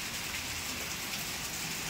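Rain falls steadily in a village during a wedding season, a faint continuous hiss of drops on surfaces with no voices.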